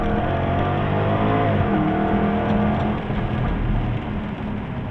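A 2017 Jaguar F-Type SVR accelerates hard on a race track, its engine a loud, continuous roar with rising tone as it gains speed, steady throughout with no talking.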